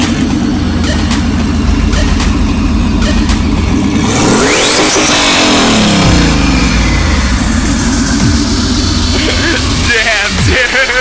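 LSX big-turbo drift car on a highway, its engine droning loudly throughout with a rising rev sweep around the middle and revs climbing again near the end, heard from inside the car.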